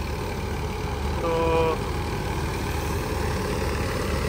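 A tractor engine drives a wheat thresher on a farm during harvest, with a steady, loud, dense mechanical drone that is continuous throughout. A brief voice is heard near the start over it.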